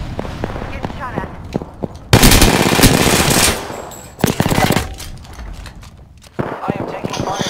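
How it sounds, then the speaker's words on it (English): Gunfire rattles in the video game Apex Legends, with loud bursts of automatic fire and sharp single shots mixed with game noise, while a voice talks over the action. "Getting shot at."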